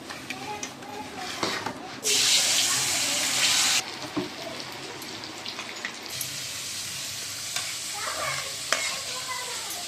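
Potato finger chips deep-frying in hot oil in a home kitchen, a steady sizzle with a loud hissing burst as a new batch goes in, alongside stirring and tap-water sounds, with some talk nearby.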